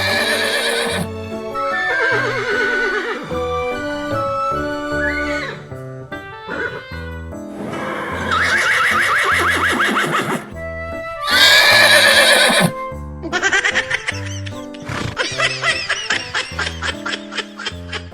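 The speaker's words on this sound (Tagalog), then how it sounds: "Ibang karera ata pinunta ng kabayo mo, Gar." A horse neighs and whinnies loudly several times, with hooves clip-clopping in between, the sounds coming in separate bursts with short gaps.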